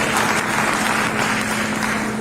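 A hall audience applauds to welcome speaker Naina at a Hindi debate event, steady dense clapping that holds evenly at moderate loudness, with a low steady hum beneath.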